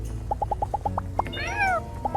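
Several short, bright meows from cats in the farming life-sim game My Time at Sandrock, a quick regular run of calls followed by a longer rising-and-falling meow, set against a steady low in-game background hum.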